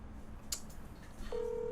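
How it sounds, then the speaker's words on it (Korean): A short burst of telephone dialing tones, with a brief tone early on and a steady dial beep starting near the end over low room noise, no talking. "맥키면 전화 안 받는데?"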